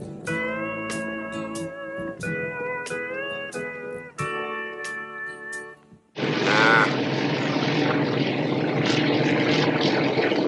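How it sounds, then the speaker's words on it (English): A propeller plane comes in for a landing in a town square in the film Cannonball Run, its engine a loud, steady drone that swells into a broad roar after a stretch of music. "Burt Reynolds and Dom DeLuise land a plane in Covington's town square in Cannonball Run."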